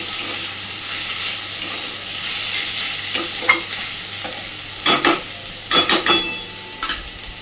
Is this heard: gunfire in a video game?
no